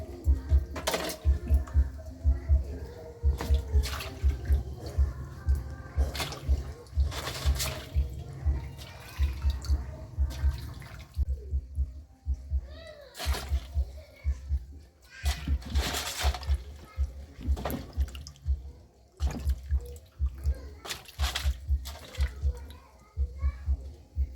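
Field crabs being washed in water before frying, with repeated splashing and sloshing in quick rhythmic bursts throughout, close and fairly loud, with occasional voices in the background.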